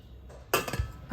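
A metal pressure cooker lid is set in place while making rice kheer: one close, bright metallic clank followed by a short rattle in a quiet kitchen.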